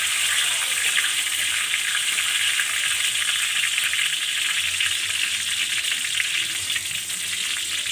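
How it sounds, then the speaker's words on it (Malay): Chopped dried chillies sautéing in oil in a pan, a loud continuous crackling sizzle with steady hiss, close up and without voices. "Cili kering yang telah dipotong kecil. Tumis seminit atau 2 minit"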